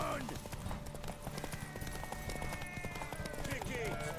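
Horse galloping in The Witcher 3, a rapid, even clip-clop of hooves running throughout, fairly quiet, with a voice talking over it.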